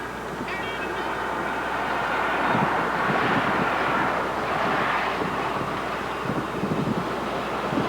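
Strong wind after a tornado, a steady roaring gust that buffets the microphone, with flags flapping and dangling in it as a rough, fluttering texture throughout, and no voices.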